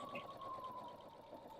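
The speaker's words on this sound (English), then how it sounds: "So right now I'm just sewing the rows" A sewing machine runs steadily, stitching rows of quilt blocks together, a continuous mid-pitched mechanical whir with a faint tonal hum and no pauses.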